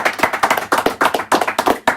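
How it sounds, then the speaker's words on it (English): A small group claps at the end of a podcast episode, quick irregular hand claps close to the microphone, loud and sharp, lasting about two seconds. "Let's give them a round of applause."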